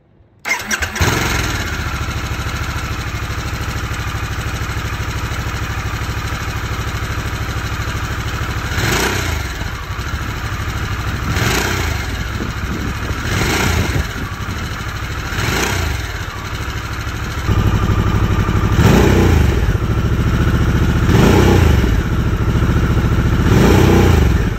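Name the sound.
Harley-Davidson Sportster S engine starting and exhaust sound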